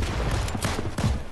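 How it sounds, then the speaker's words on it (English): Rapid gunfire in the video game Fortnite, a loud, dense burst of overlapping shots that keeps going through the whole moment, with one heavier crack near the end. "I'm getting shot from behind now"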